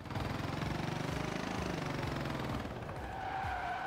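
Handbrake skid of a tiny 1962 Peel P50 microcar in the racing game Forza Horizon 4, a loud continuous engine drone with scrubbing tire noise, steady throughout with a rising whine near the end.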